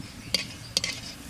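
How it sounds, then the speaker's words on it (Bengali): Tomato malpua fries in hot oil as it is turned in the pan, a soft sizzle with two sharp scraping clinks of a utensil against the pan, close and brief. "উল্টিয়ে পাল্টিয়ে ভাজা করতে হবে"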